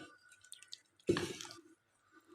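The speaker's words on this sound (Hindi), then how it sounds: "इन तमाम चीज़ों को मिक्स करने के बाद हम इसमें थोड़ा थोड़ा पानी ऐड करेंगे।" Water added little by little to a sandwich masala marinade mix, one short splashy pour near the middle followed by a softer trickle, fairly quiet with no talk.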